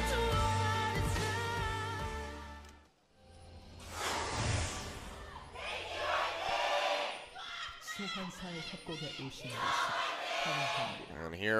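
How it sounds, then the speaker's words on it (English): SKT fans roar and chant in an esports arena during an LCK Summer playoff semifinal against KT Rolster, crowd noise swelling and dipping in loud waves with bursts of shouting. "SKT fans still very much cheering on for their squad despite the Game 1 loss"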